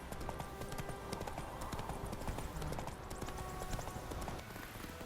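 Roach, Geralt's horse in The Witcher 3, trots with a steady clip-clop of hooves close by, continuous across the clip alongside faint game ambience and a brief voice.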